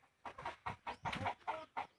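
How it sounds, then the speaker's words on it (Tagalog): Chickens clucking noisily at close range, a run of short, loud, separate squawks and clucks in an irregular rhythm with brief gaps between them, heard alone without voices. "So dito ang ingay ng manok mga G."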